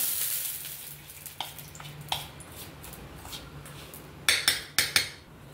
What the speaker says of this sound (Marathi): आता हे मोहन चांगलं आपण ह्या रवा आणि जो मैदा आपण घेतलाय त्याच्यामध्ये छानपैकी हे आपण मिक्स करून घेऊया